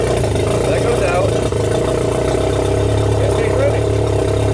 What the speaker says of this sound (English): And as we start the tractor, here, I'll help Vladimir start.